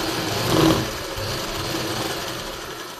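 A sewing machine stitches the lining of a silk suit, a soft continuous mechanical whir that swells briefly early on, then runs steadily at moderate level with no voices.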